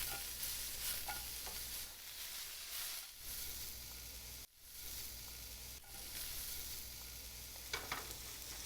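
Sugar snap peas sauteing in a pan while being tossed, a close continuous sizzle with rhythmic scraping and shaking swells and a few brief dips as the pan lifts.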